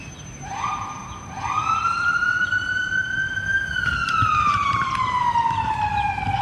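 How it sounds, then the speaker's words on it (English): A police siren passes along a street, its rising wail climbing then sweeping lower as it moves by at moderate distance, loud and continuous over traffic hum. "Hope that siren wasn't for me."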